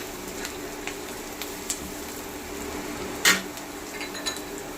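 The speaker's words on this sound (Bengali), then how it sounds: "দু চামচ ধনের গুঁড়ো শুকনো মশলাটা দিয়ে একটু ভালো করে নেড়ে দেবো" Coriander powder and dry spices fry in a pan as they are stirred for dhaba-style chicken masala, a soft continuous sizzle with occasional scrapes and one sharp clink of utensil against pan.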